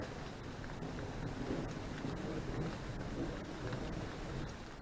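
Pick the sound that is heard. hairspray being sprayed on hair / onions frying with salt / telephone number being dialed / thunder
thunder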